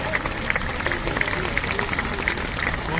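Large outdoor crowd clapping at an International Day of Yoga event in Chandigarh, a steady dense patter of many hands with distinct sharper claps standing out, continuous and moderately loud.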